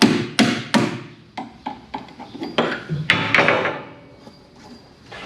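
A hammer striking a metal suspension perch to loosen it, a series of sharp, close metallic clanks at irregular intervals, loud at first and then lighter taps.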